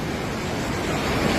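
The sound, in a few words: rushing flooded river water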